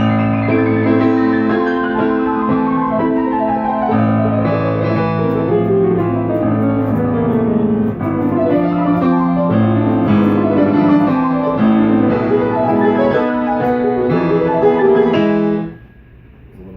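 Piano plays a Chopin étude: a low, mournful march-like left-hand melody beneath quick cascading right-hand runs, with continuous ringing notes that stop abruptly near the end.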